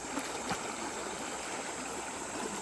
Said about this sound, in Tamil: இந்த தண்ணி சவுண்டு கூடவே ஒரு நேச்சுரல் தெரப்பி மாதிரி இருக்கு கேட்கவே